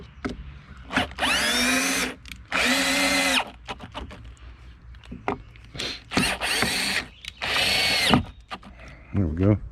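A power drill fixes a fishing fish finder transducer ball mount in place, running in several loud sustained bursts of a few seconds each, whining up and down between short pauses, with a voice speaking briefly between runs.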